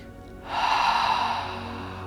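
Sharp, forceful breath out through a wide open mouth during a guided breathing exercise, starting abruptly after a quiet moment and holding as a steady airy rush for over a second, close and alone.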